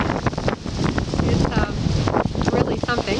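Strong gusts of a wind storm, around 60 mph, roar and buffet a tiny house in Ontario, loud broadband rushing with microphone buffeting throughout.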